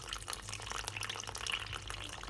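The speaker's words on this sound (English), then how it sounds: "you can see here I've switched to a coffee filter, slowly pouring" Avocado dye liquid is poured slowly through a coffee filter, giving a soft, steady trickle with faint drips under a low background hum.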